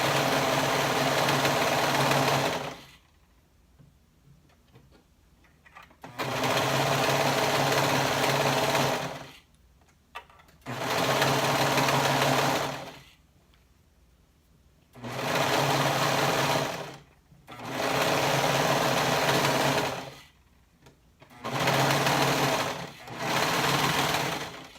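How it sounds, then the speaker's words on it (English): A sewing machine stitches a loop on a waistband in several loud, steady bursts, each a few seconds long, separated by short quiet pauses. "So do make sure you continue stitching that whole loop."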